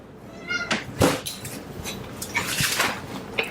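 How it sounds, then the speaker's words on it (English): A pet cat named Zimmy meows repeatedly, close and fairly loud, with several rising cries in a row and little else around. "Here comes Zimmy, my cat."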